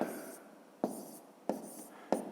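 Handwritten numbers being written out for a fifth-grade arithmetic exercise: a few close, soft scratching strokes of pen or pencil on paper, with distinct onsets roughly every second and no voices.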